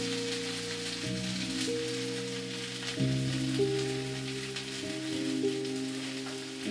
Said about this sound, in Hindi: अब सारी मसाले इस तेल में डाल देंगे।